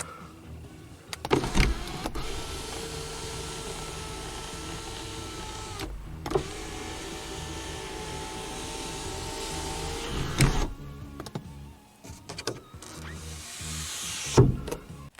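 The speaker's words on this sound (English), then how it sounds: "As I mentioned, this car's got the optional sunroof." Steady electric motor whir of the optional power sunroof on a 2005 Chevrolet Impala, running continuously for several seconds with brief pauses and soft clicks as it starts and stops, heard close inside the quiet cabin.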